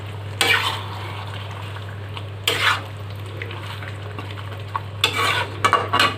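Tomato and chicken fry together in a pan for a chicken curry. A spoon scrapes and stirs in three separate bursts over a low, constant sizzle and hum, close and fairly loud, with no talk.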